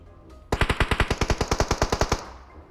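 A rapid automatic weapon burst in PUBG Mobile, about sixteen evenly spaced sharp shots fired in quick succession, loud and close with no talk.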